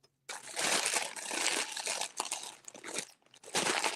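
A hand rummages through a bag of buttons, making loud crinkly, crunchy rustling in bursts with brief pauses, close and alone, with no talking.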